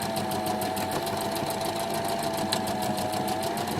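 A sewing machine runs a steady, continuous line of stitches across cotton pieces for a Tilda doll, its rapid, even needle pulses close and clear with no talking.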